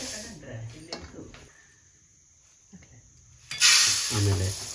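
Urad dal roasting in a pan over a medium flame, with a soft dry sizzle and scraping stir strokes, brief quiet gaps, then a louder burst of sizzling near the end.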